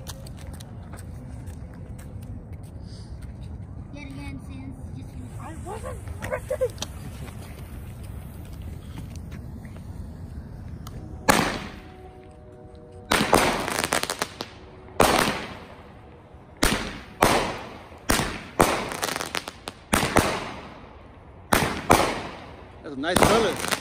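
A 16-shot consumer firework cake fires outdoors: after a quiet stretch with voices and background noise, sharp loud bursts follow in quick succession, each with a short echoing tail, spaced irregularly over about twelve seconds.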